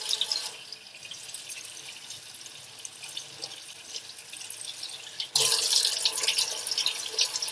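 Tap water runs steadily while someone rinses soap off their hands at a sink. The splashing grows noticeably louder and fuller partway through, as if the flow strengthens.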